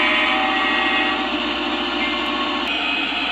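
A Lionel Legacy Amtrak F40PH model train locomotive runs with a steady mechanical hum and rolling rattle, close and continuous throughout, with no voices.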